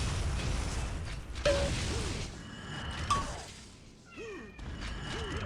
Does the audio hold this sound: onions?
no